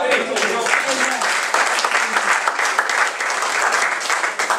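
A crowd applauds loudly and steadily, dense clapping filling the room without a break.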